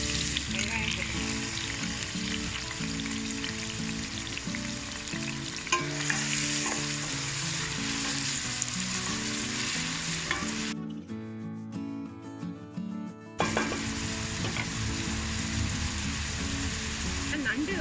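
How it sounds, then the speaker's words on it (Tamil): Onions frying in hot oil outdoors for a pepper crab curry, a loud dense sizzle with stirring scrapes, cutting to near silence for about three seconds before the frying resumes. "ஸோ எண்ணெய் காஞ்சதும் வெங்காயம் போட்டுக்கலாம்."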